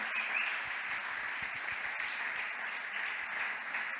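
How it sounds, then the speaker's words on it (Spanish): Church congregation applauding the Lord during a Spanish-language morning service, a steady wash of clapping filling the room at moderate level, with no voices over it. "Dale un fuerte aplauso al Señor en esta mañana."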